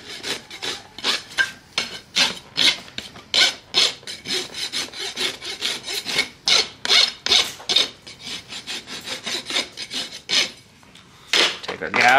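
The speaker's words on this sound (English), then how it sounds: "Grab a rasp." A farrier's rasp files a horse's hoof during shoeing with new shoes and pads, giving steady rhythmic rough scraping strokes, close and fairly loud, with brief pauses between bursts and no talking.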